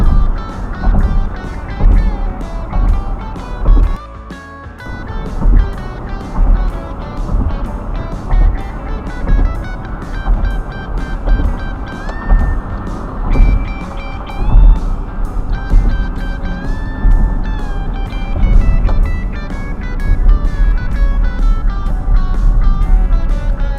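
A car drives through Midtown Manhattan in New York City during the coronavirus shutdown, with steady engine and road rumble throughout and music playing over it.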